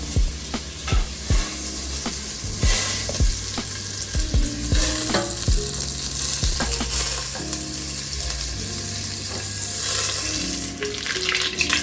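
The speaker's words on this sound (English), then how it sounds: "I think you'd love to see the butter melt" Butter melting and sizzling in a pan makes a steady close crackle, overlaid by a run of sharp rhythmic clicks and scrapes from stirring, with no speech.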